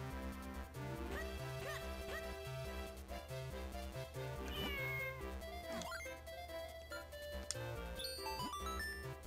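Cat meowing in a Zelda-style video game, with repeated short mews set against steady, loud game music that fills the whole stretch.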